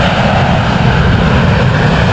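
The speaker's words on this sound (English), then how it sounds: "See a 747" A Boeing 747 airplane's engines give a loud, continuous broadband roar at close range with no break.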